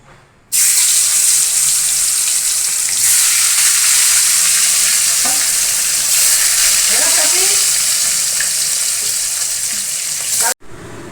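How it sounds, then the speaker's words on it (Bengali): Steady, loud sizzling of fish frying in hot oil, continuous for several seconds with a few faint clinks. "মাছ ভাজা হয়ে গেছে মাছ আর বড়ি"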